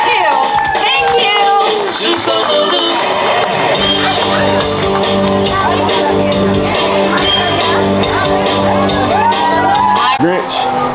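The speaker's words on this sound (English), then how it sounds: "How about a nice round of applause for Sam I Am, the Lorax, Cat in the Hat, the Grinch." A theme park audience cheers, whoops and claps for costumed characters including Sam I Am, the Lorax, the Cat in the Hat and the Grinch, with shouts and voices overlapping in a lively, continuous crowd din.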